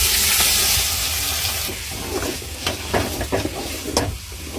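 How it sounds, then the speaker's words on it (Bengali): Polao rice frying in soybean oil with chopped onion and whole spices, a loud hiss at first that settles into crackling sizzle with scraping stirs and clinks, close up and without speech. "এখন দিয়ে দেবো পোলাও করে চাউল"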